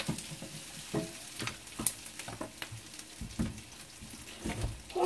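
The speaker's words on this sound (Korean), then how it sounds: "최대한 밥이 좀 날라다닐 수 있게 마르게 잘 볶아줍니다" Fried rice with onions stir-fried dry in a hot pan, a steady close sizzle broken by scraping and tossing strokes of the spatula, alone without talk.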